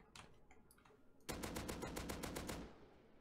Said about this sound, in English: what you should do is spray the first 10 shots